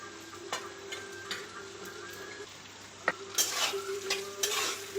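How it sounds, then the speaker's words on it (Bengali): Paneer cubes frying in a pan, a soft steady sizzle punctuated by clinks and taps of a utensil against the pan, growing louder and more crackly toward the end, with no talking. "একে একে সব চলে যাচ্ছে, এগুলো অল্প করে ভেজে নিতে হবে।"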